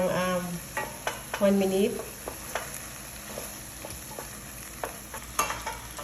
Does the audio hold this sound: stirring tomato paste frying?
yes